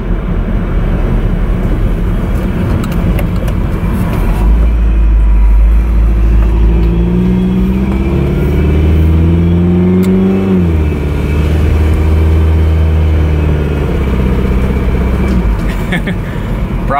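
A $500 Toyota MR2 with transmission trouble and worn ignition parts revs its engine up and down, a loud rising and falling drone that swells mid-clip and settles again, with voices talking over it.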